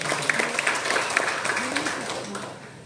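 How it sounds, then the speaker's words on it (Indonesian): Audience at an inauguration ceremony claps in a scattered burst of applause, moderately loud, while a voice speaks over it through most of the stretch. "tepuk tangan untuk Bapak Ustaz"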